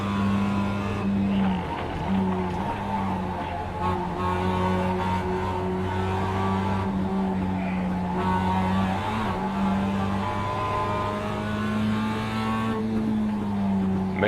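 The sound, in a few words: race cars in a sim racing video game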